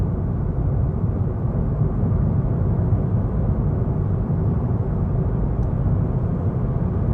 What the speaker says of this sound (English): Wow, the noise levels though. This was never a quiet car.